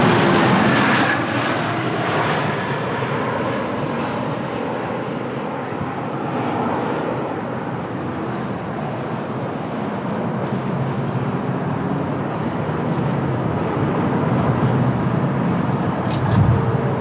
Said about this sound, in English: Nice, another landing.